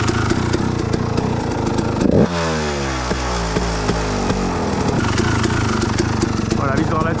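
A two-stroke moped engine idles and revs briefly while its carburetor mixture is being adjusted, running loud and close with a sharp rise and fall in pitch in the middle.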